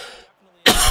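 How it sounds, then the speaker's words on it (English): A single sharp cough bursts out after a brief quiet moment, close and loud. "Apologies for the cough."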